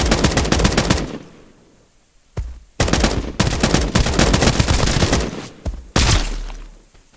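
Gunfire from a weapon in the game Escape from Duckov: loud, close bursts of rapid automatic fire, several separate volleys split by short pauses and decaying echoes.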